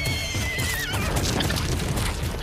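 A horse gives a loud, close whinny that rises and wavers and then fades, with some hoof clatter underneath.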